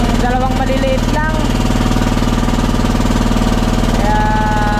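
Two small engines on a fishing boat drone loud and steady, close by, a continuous low rumble with a regular throb and no break.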